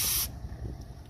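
Engine degreaser cleaner sprayed from an aerosol can onto the timing belt area of an engine, one loud close hissing burst that cuts off after a moment, leaving quiet background.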